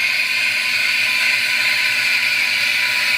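A loud, close, high-pitched screech from a steam wand in milk holds steady over a constant hiss.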